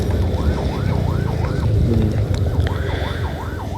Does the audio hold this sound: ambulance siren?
yes